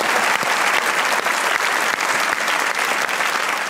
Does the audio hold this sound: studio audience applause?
yes